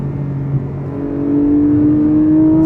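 A Porsche 718 Cayman GTS 4.0 mid-engine flat-six revs steadily higher, its droning note climbing and growing louder, heard from inside the car.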